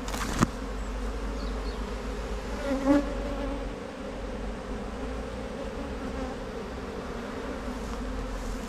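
Bees and bumblebees buzzing among flowers left for pollinators in a spring garden plot, a steady close drone of wings with a few louder passes near the microphone.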